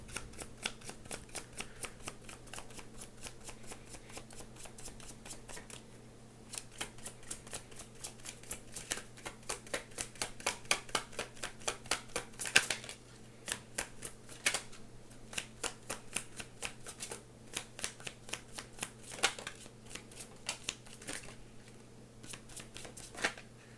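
Tarot cards being shuffled at close range, a long run of quick riffling flicks in bursts with brief pauses, fairly quiet and with no speech.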